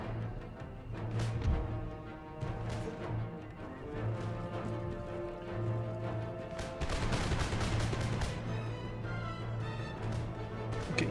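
Musket volleys crackle across a battlefield in Empire Total War, a steady run of distant popping shots that thickens into a dense burst of rolling gunfire partway through, all under a low continuous hum.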